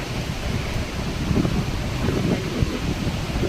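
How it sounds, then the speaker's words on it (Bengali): Stormy wind and heavy rain rush steadily at close range, a dense continuous roar with gusty low buffeting on the microphone and no voices. "যেরকম বৃষ্টি তেমনি হাওয়া"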